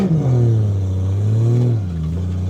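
Nissan R34 GTR V-Spec engine revving loudly from inside the cabin during a ride-along, a steady rising drone that climbs, holds, then drops off as the throttle eases, with no talking.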